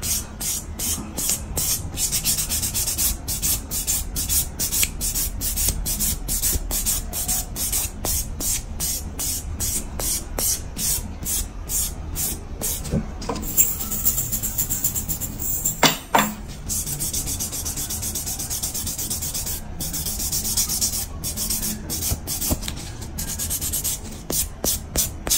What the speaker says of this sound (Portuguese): já vou passar minha lixinha buffer pra tirar a marcação das outras lixas